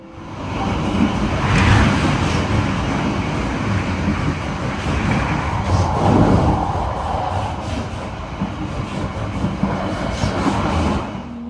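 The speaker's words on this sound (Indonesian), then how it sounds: "kereta api Sri Tanjung tiba di stasiun Kertosono" The Sri Tanjung economy train arrives at Kertosono station in East Java, with a loud, steady rolling rumble and rattle of the carriages that swells and eases over several seconds.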